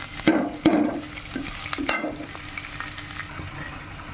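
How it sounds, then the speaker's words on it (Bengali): A spice masala with tomato and green chilli sautés in oil, sizzling close up. A few sharp spoon knocks and scrapes against the pan come early, then lighter stirring. "মশলাটা সুন্দর করে কষিয়ে নিয়েছি, তেল ছেড়ে দিয়েছে"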